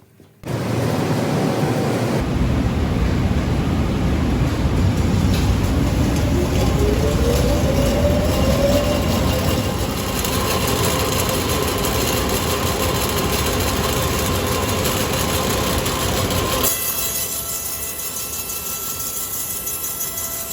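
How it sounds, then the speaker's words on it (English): A band re-saw with power feed runs alongside a dust extractor, building to a loud, steady roar with a dense mechanical hum and a brief rising whine, then settling to a slightly quieter continuous drone. "I'll go and start the extractor now before we do that."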